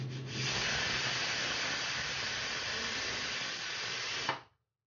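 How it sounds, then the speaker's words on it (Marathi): A pressure cooker venting steam, a steady loud hiss holding for about four seconds before stopping sharply, heard alone without talk. "हे आपला कुकर झालेला आहे. आता वाफ निघू देऊ"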